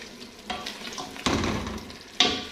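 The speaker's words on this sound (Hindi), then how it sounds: "इसको अच्छी तरह भूनना है ताकि जो भी अभी हमने टमाटर वगैरह डाले हैं ना उनका जो कच्चापन है ना वो ख़त्म हो जाए।" Tomato masala fries in a pan for beef paya, a soft sizzle broken by three louder bursts as the spoon stirs and scrapes through the mixture.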